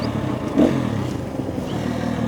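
A KTM 250 EXC-F dual sport motorcycle idles with a steady, rumbling engine note heard up close, with a brief clatter near the start.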